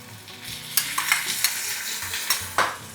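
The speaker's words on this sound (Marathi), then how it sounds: "आता तांदूळ आणि वाल हे सगळं छान परतून घ्यायचं." Soaked, drained basmati rice and val beans are sautéed in a pan, with a steady frying sizzle and several light scrapes and clinks as the mixture is stirred gently, close and fairly quiet.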